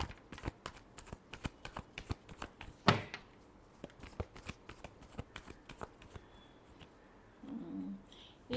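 Close-up hand shuffling of tarot cards for a Libra reading, many sharp papery snaps and riffles in irregular bursts that thin out toward the end, with no voices.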